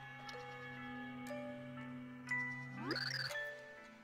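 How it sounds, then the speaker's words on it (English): Bells ringing in the Super Paper Mario video game finale, sustained chiming tones struck at intervals that overlap and ring on, ending in a brief rising flourish, with no talk. "The bells are giving their blessing to Tippy and Bleck."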